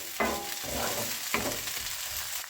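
Hot oil sizzles steadily while a spoon scrapes and stirs garlic-ginger paste in a pan for fish curry, close up, with short bursts of scraping.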